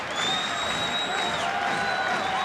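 A basketball arena crowd at an NBA Finals game between the Lakers and Bulls fills the space with a continuous murmur of cheering and applause, with a sustained whistle or horn tone running through the crowd noise.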